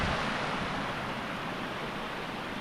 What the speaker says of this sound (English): That's lovely. Waterfall.